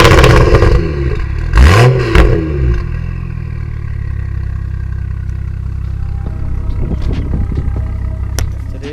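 A modified BMW 535i F10 engine cranks and catches with a loud burst around two seconds in, then settles into a deep, steady idle with a few sharp revs rising near the end, heard close up with no talking.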